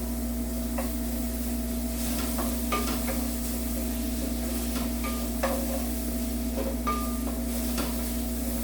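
Ginger and garlic sizzling in a frying pan after browning tripe, a steady close hiss of hot oil with occasional light clinks of a utensil against the pan, continuous throughout with no talking.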